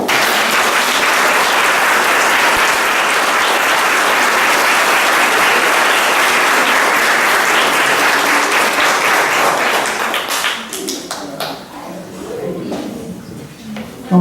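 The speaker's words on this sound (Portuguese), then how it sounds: "vamos agradecer com uma salva de palmas" Sustained applause from a crowd gathered at a religious children's event with a Nossa Senhora image, steady dense clapping for about ten seconds before thinning into scattered claps and murmurs.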